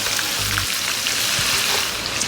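Ginger, garlic and curry leaves fry in a pan for a Kerala fish pickle, giving a steady, close sizzling hiss with soft crackles and a couple of low bumps, no voices.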